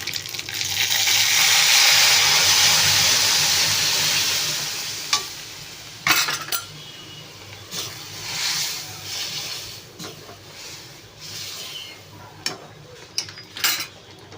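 Mung lentils added to fried ginger-cumin spice in a pan for a radish dal: a loud watery sizzle surges then fades, followed by scattered sharp spoon scrapes and clinks as the mixture is stirred.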